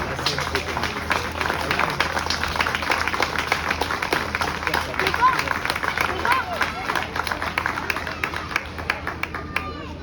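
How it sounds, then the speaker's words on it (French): Audience applauding at a French ceremony marking the end of construction works at the Étangs de Coro, a sustained patter of many hands clapping with crowd murmur underneath. "vous pouvez l'applaudir."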